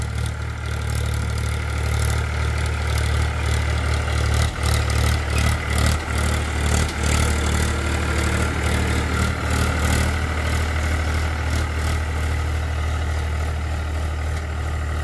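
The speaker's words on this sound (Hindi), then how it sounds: "क्लियर साउंड निकाल रहा है ट्रैक्टर" A Powertrac 439 Supermaxx tractor engine runs close by with a steady, even diesel drone at idle-like speed. It holds a constant low rumble for the whole stretch, and no one speaks.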